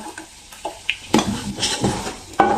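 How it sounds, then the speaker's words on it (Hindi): Onions are stirred into garlic and ginger paste frying in a pot for a mash daal dish. A spoon scrapes and knocks against the pot in uneven strokes over a light sizzle, close and fairly loud. "2 से 3 मिनट के बाद प्याज डाल देंगे"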